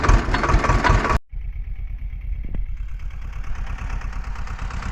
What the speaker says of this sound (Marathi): झालं ट्रॅक्टर चालू